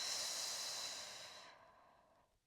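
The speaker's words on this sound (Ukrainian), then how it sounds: "Вдих і видих." One long, deep breath during a diaphragm massage exercise, a close airy exhale that slowly fades to quiet.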